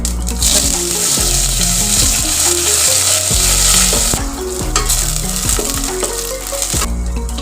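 Mustard seeds, onion and cumin frying in hot oil for a coriander curry tempering, giving a loud, steady sizzle throughout with stirring knocks and pops, and no voices.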